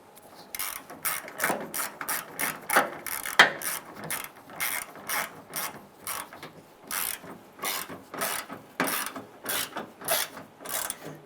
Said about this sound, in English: Go ahead and get the two 8mm nuts started on there. Go ahead and snug these down.